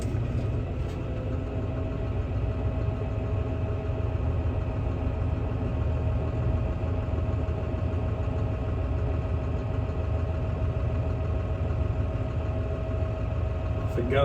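A tractor engine working ground in a field runs as a steady, continuous low drone with a constant hum throughout, close and fairly loud, with no clear pauses.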